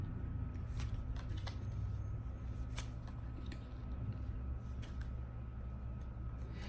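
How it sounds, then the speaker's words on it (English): A tarot card deck is cut and handled in quiet, close shuffling riffles and soft card taps over a steady low room hum. "I'm cutting the deck right now"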